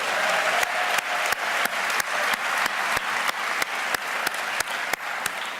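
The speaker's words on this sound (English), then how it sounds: "And while you're clapping, make sure you hire some of these summer youth" Dense, steady applause from a large audience at a city's State of the City address, sustained and loud throughout with no talk over it.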